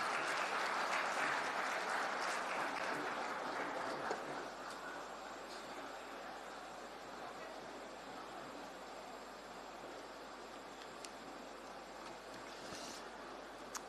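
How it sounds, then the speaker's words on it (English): Audience applause welcoming an ambassador at the inauguration of a cattle feed factory, a fairly faint, distant crowd clapping that is strongest in the first four seconds, then thins to a softer, lingering patter. "Everybody, with a huge round of applause,"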